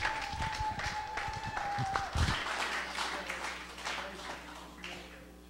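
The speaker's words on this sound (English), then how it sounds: "One more time, a round of applause." Church congregation at a worship service applauding a band: a burst of clapping from the audience with some background voices, fading out over a few seconds.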